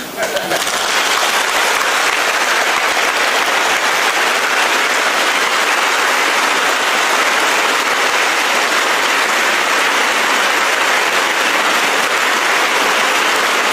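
A college audience at a stamp-release ceremony gives a long, loud, unbroken round of clapping that stays at full strength for over thirteen seconds, with a few voices buried in the din.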